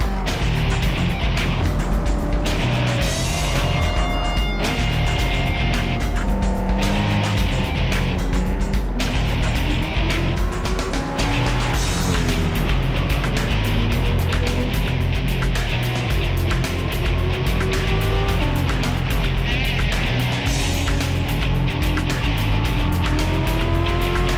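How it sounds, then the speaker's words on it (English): Racing cars in a video game, a Mini Cooper overtaking a truck, with engines droning loud and steady throughout, shifting pitch as they rev, and brief tire squeals mixed in. "The Mini Cooper is attempting to pass a truck, and succeeding."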